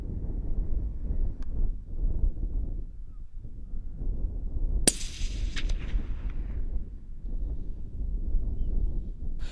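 A single sharp rifle shot cracks out midway while fox shooting at night in open countryside, followed by a short fading echo, all over steady wind rumble against the microphone.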